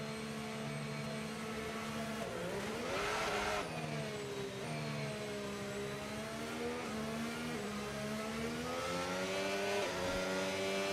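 A Formula 1 race car in the F1 25 video game drives on track with a loud, high engine whine that rises and falls through gear changes and accelerations, continuous for the whole stretch with no talk.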